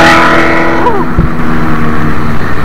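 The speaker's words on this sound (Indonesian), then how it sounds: "Ada motor gede." A big Kawasaki 900 motorbike on a new toll road, its engine drone sweeping past up close against loud, steady road and wind noise.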